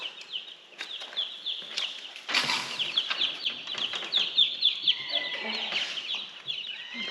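Meat chickens cluck and squawk nearby, with wing flaps and rustling as feed is set out for them outdoors, a steady run of overlapping calls throughout.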